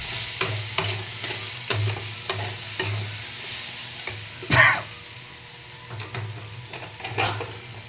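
Chilli and turmeric powder stirred into a pan over lowered gas heat while cooking a fish-head spinach dish, with repeated spoon scrapes over a low sizzle and one louder clatter midway.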